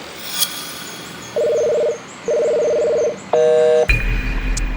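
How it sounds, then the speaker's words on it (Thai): Telephone keypad tones beep in steady blocks, a few separate presses followed by a quick burst of higher tones, then a brief rustling handset noise. "ลองโทรหากิฟดูว่าเขาทำอะไรอยู่"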